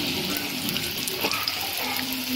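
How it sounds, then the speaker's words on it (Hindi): Potato samosas frying in hot oil give a steady, dense hiss and sizzle that stays even throughout, close by, with no voices. "अब हमने तेल को कर लिया है गरम और इसमें हम ऐड कर रहे हैं समोसे और हम इनको फ्राई कर लेंगे"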